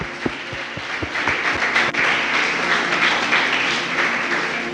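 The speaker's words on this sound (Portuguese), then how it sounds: "Pode aplaudir com fé." A church congregation applauds during worship, a sustained bed of clapping layered over low rhythmic thumps and background music, steady and fairly loud throughout.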